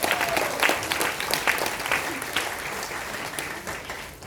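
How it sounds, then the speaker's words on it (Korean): Applause at an academic seminar in Korea greets a former university president, with dense clapping and a few sharper individual claps that continue evenly for a few seconds. "큰 박수를 맞아주십시오."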